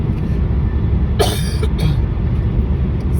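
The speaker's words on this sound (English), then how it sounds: "I'll stop the video if I'm coughing too much" A person coughs once in a short, harsh burst over a steady, loud low rumble of background noise.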